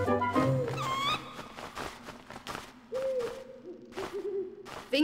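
An eagle owl in a shop in Diagon Alley in the PS1 game Harry Potter and the Philosopher's Stone gives several clear, tonal hooting calls amid soft game sounds and light footsteps, with no speech.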